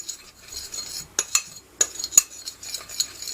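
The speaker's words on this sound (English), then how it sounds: "I'm just going to give this a quick stir" A spoon stirs cinnamon into a baked apple mixture in a bowl, producing soft scraping and several sharp, close clinks of metal against the dish at an uneven pace.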